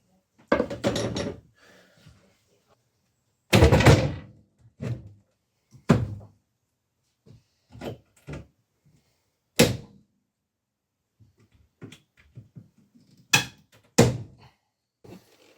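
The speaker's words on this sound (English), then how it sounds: "It's my nail drawer, this is, Shell." A drawer of nails aboard a narrowboat on a canal is yanked open and shoved shut, giving a run of sharp wooden thunks and rattles spread irregularly across the stretch, loud and close, with quiet gaps between.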